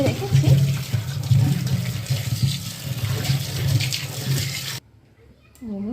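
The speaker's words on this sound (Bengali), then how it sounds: "এবার এখানে পেঁপে আর আলুটা ভালো করে ধুয়ে নেব।" Papaya and potato are washed under a running tap, a steady close splash of water over the vegetables for several seconds that stops abruptly, followed by a brief voice.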